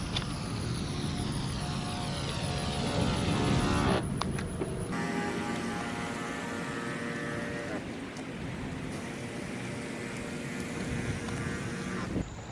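A Spraymate backpack sprayer fitted with a T-Jet nozzle sprays in one steady pass, a constant loud hiss with a faint pump tone that briefly shifts and drops partway through.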